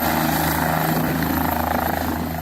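A helicopter departs from a flood-affected area in Manitoba, its rotor thumping in a steady rapid pulse with a loud continuous engine whine, close by and alone without voices.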